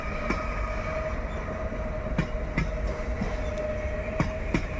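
A Polish passenger train rolls past in Katowice with steady rumble and periodic clickety-clack of wheels over rail joints, moderately loud and continuous, no talking.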